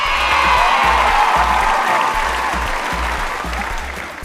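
Loud, sustained applause with some cheering from an audience, a dense close clapping texture that eases slightly toward the end.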